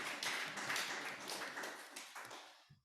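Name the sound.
congregation applause of encouragement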